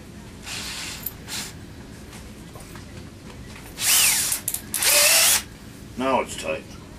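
A power drill runs in short bursts while a drill bit is tightened during furniture repair, with several loud whirring spurts separated by quieter gaps and faint background noise.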